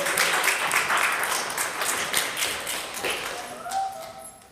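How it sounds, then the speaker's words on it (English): Audience applause greeting Danny Carranza at a Gavilan Hawk Talks evening event, dense and steady at first, then slowly thinning and fading as the clapping dies down. "Give him a big round of applause."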